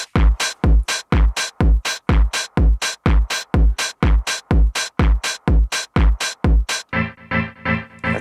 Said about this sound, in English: here's the kick and the hi-hat.